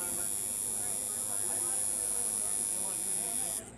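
An electric tattoo machine buzzing continuously, a steady high-pitched electric whine with a dense hum beneath, loud and close, cutting off near the end.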